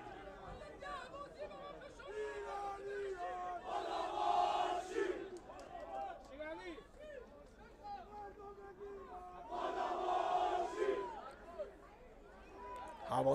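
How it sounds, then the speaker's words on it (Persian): Damash Gilan football supporters fill a stadium with steady crowd chatter and chanting, swelling into two loud bursts of massed cheering and yelling, the second near the end. "این هواداره داماش هستن که دارن تیمشون رو تشویق میکنن."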